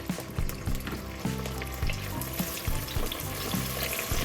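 Cow foot sears in hot oil for a Jamaican Sunday dinner, giving a loud, steady crackling sizzle. Faint rhythmic clunks sound under it throughout, with no talk.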